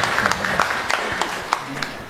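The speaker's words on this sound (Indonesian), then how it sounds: "Tepuk tangan untuk Suster berdua." A crowd at a novitiate blessing ceremony in Yogyakarta applauds, steady close clapping that fills the whole stretch with a few sharper individual claps standing out.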